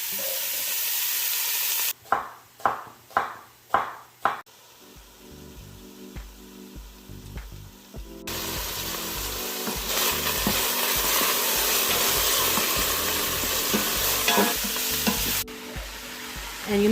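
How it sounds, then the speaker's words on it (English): Ground beef browns in an Instant Pot Duo Crisp with a steady, close crackling sizzle, preceded by a few sharp knocks and scraping stir sounds. "So I'm gonna add our ground beef. I'm gonna brown it."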